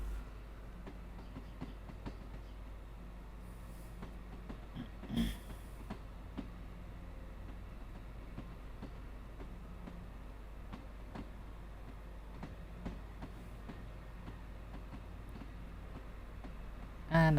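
A British Rail Class 313 electric train runs on rails in the Train Sim World 2 game, a quiet, steady rumble with light rhythmic clicks from the wheels and a brief louder knock partway through.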